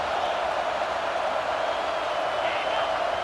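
A steady, loud wall of roaring crowd noise fills a college football stadium during an ECU vs NC State game, unbroken and dense throughout without distinct claps or individual voices.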